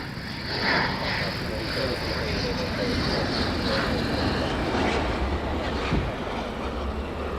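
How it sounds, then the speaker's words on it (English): A military jet at RAF Lakenheath roaring past in a broad, sustained rumble that swells early and lingers, heard from a distance with someone talking over it. "When this aircraft goes past"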